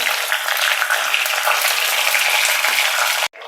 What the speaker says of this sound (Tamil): வரமிளகா அதை விதை நீக்கின வரமிளகா இதையும் போட்டுக்கலாம்